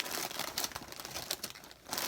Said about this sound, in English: Sorry about the rustling.